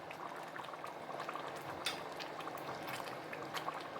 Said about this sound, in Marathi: छान असं सांबार उकळलेलं आहे.